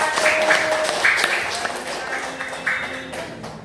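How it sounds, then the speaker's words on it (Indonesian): Audience applause for a student group at a classroom presentation, a dense wash of clapping mixed with chatter and voices throughout, fairly close and steady. "Beri tepuk tangan untuk kelompok 1."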